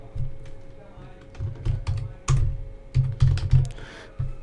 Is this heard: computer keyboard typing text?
yes